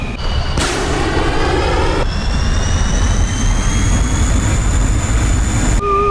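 A MiG-21 jet engine roaring with the afterburner lit in a DCS flight sim: a loud, steady rumbling roar with a rising whine layered on top, heard alone without talk.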